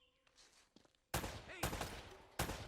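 Gunfire in Uncharted: Drake's Fortune, starting with quiet game sounds before loud bursts of rapid shots erupt, dense and harsh, repeating in a couple of sustained volleys.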